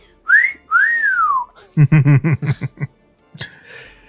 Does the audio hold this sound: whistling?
yes